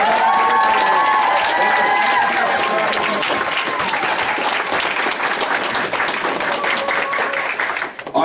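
A large audience at a convention's cosplay contest and closing ceremony claps and cheers continuously, the applause holding strong before thinning slightly near the end.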